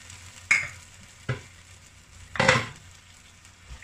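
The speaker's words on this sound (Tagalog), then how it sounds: "Then, haluin lang." Spaghetti sauce with chili sauce and a little water being stirred in a frying pan, heard as three distinct scraping, sizzling strokes, the last one longer and louder, close up with no talking.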